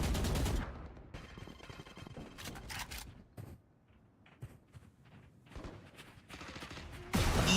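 Gunfire in a Valorant match, with loud bursts of shots at the start and then scattered sharp single reports and clusters through a quieter stretch, ending in another loud blast.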